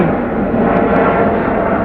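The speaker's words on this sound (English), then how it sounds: "2 helicopters flying, 3 helicopters, those are special forces ones" Special forces helicopters flying overhead at night in London: a loud, steady, broadband roar of rotors and engines filling the whole stretch with no break.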